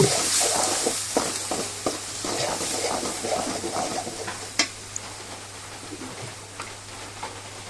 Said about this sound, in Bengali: সব মশলা দিয়ে ভালো করে নেড়ে চেড়ে কষিয়ে নেব